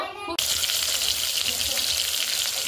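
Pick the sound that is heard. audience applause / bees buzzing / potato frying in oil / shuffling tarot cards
potato frying in oil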